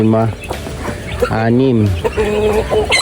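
Farm hens clucking close by in short repeated calls and rising squawks, while someone talks over them.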